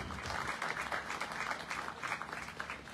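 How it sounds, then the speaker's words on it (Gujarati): An audience at a bhajan gathering in Bhuj, Kutch breaks into steady, continuous applause, a moderately loud mass of clapping hands that lasts throughout. "એકવાર જોરદાર તાળીઓ"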